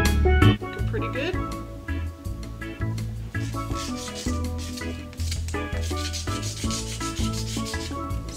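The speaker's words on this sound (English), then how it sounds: "All right, let's get this sanded." A Jeep grill insert being sanded by hand with quick rubbing strokes, close-up, under steady background music.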